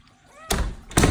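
Door being closed in a house, with two sharp thumps close by, the second louder, after a quiet stretch with faint tonal sounds.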